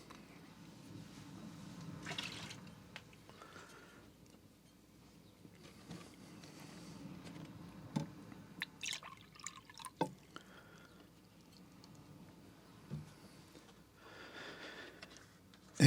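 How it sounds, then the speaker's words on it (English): Rinse water for watercolor brushes being changed: faint drips and small splashes of water, with scattered light clinks, at low level throughout. "Let's change out the water one more time."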